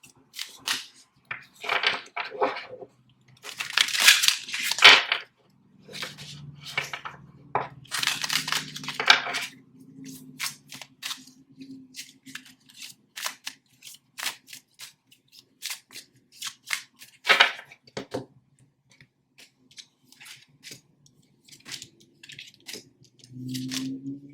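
Oracle cards handled and shuffled up close, with brisk rustling and riffling bursts, quieter sliding and tapping between them, and occasional pauses.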